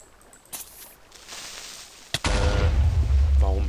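A creeper explosion in Minecraft blowing apart a ladder, a sudden loud blast followed by a sustained low rumble and debris crackle, preceded by small quiet thuds.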